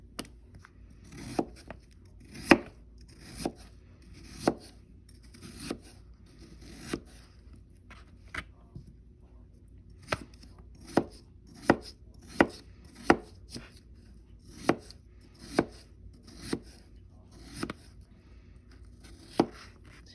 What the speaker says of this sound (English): I'm slicing them as such so that they're the same thickness.